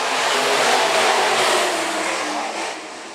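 IMCA modified race cars at a dirt track roar as they accelerate out of turn four at the race start, a loud, sustained engine drone that eases slightly toward the end.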